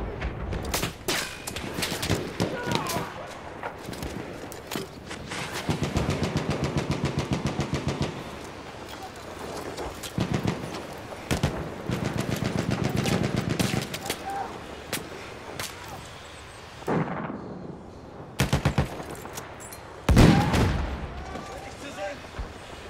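Battlefield 1 artillery fire booms in repeated heavy salvos mixed with rattling gunfire across a noisy battlefield, loud and dense, with bursts clustering around the middle and a sharp blast near the end; voices speak at times.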